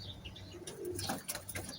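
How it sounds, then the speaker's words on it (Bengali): A young short-faced Omani pigeon kept in a loft coos softly while wings flap close by, with brief chirps mixed in. "এটা হচ্ছে ওমানি কবুতর"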